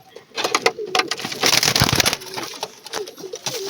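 Pigeons coo in low pulsing calls close by as the flock is driven out of its coop, amid rustling, scraping and wing flutters.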